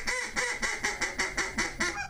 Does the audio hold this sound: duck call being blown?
yes